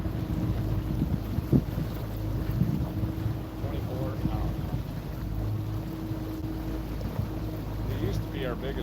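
A boat's motor drones steadily on the water under heavy wind rumble, constant and fairly loud throughout, with faint splashing; the boat is 22 to 24 feet long.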